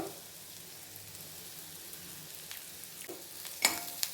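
Bitter gourd fry sizzles softly in a frying pan as it is stirred, with a steady low crackle and a few sharper scraping clinks near the end, with no voices.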